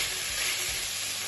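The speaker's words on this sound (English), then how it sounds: "Just give it a little stir." Chicken stir-fry with mixed herbs sizzling in a hot pan as it is stirred, a loud, steady close-up hiss with faint low scraping thumps.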